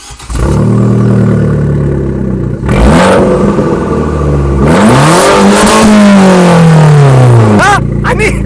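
An Abarth 595 Competizione with a 1.4-litre turbo petrol engine, hot started and revved: loud close engine noise with several sharp rev rises and falls, one long sweeping rev, and brief speech near the end.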